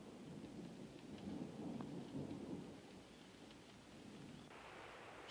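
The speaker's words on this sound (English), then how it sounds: "Then came days of relentless rain" Heavy summer rain pours steadily in the Smoky Mountains, with a low rumble of thunder rolling through, a constant dense hiss throughout.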